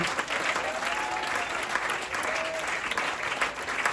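Applause from a church congregation at a worship service in Muntinlupa, dense and steady clapping filling the space throughout with faint crowd voices underneath.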